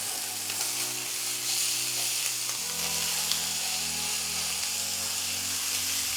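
Steak searing in a hot pan over high heat, a steady close sizzle and crackle running continuously with no talk.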